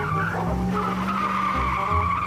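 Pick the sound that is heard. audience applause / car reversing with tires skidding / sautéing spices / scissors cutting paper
car reversing with tires skidding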